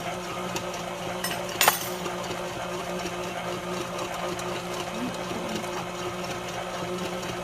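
An electric mixer runs continuously while mixing cupcake batter, a steady close mechanical whir with one brief clatter near the start and no talking.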